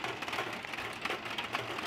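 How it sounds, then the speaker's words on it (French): A light hail shower falls on surfaces in Villers-Bocage, giving a faint, steady, dense patter of small pellets with no voices. "C'est limite des grêlons, hein."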